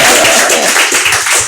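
Loud, close audience applause from a seated crowd at a hot-seat interview session, a dense wash of clapping filling the whole short stretch with no talk over it.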